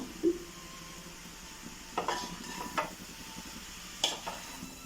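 Avial with sour green mango, curry leaves and a splash of coconut oil stirred in a pot, heard as a soft steady background with a few scattered close scrapes and clinks of the spoon.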